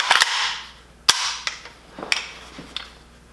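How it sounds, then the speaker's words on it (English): The recoil rod of an Arsenal SAM7K pistol goes back in and its steel top cover snaps shut, giving one loud, sharp metallic click followed by a few smaller, softer clacks, close up with no talking. "We put our recoil rod in, close our top cover, and we're all set."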